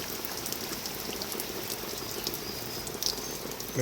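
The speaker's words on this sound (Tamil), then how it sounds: "நமக்கு இங்கே எங்கள் வீட்டுக்கு பக்கத்துலலாம் நல்லா மழைங்க" Heavy rain falls beside a village house, a constant close hiss of drops striking surfaces and standing water, even and unbroken apart from a small bump at the end.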